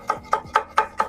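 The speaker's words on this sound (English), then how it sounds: "Chop some peppers." A knife chops bell peppers on a cutting board while huevos rancheros are being prepared. Five crisp, evenly spaced chops land close by, about one every fifth of a second, with no talking.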